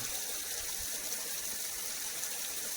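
A continuous rush of water streams from a hose fed by a filtered jungle water system, a constant bright gushing hiss at steady volume, close by and unaccompanied by speech.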